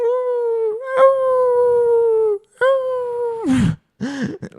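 A man imitates a dog howling, giving two long sustained howls that bend downward, followed by short whimpering yips, loud and close with no other sounds.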